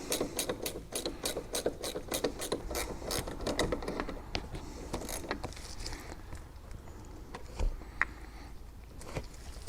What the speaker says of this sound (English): So make sure you use a ratcheting wrench.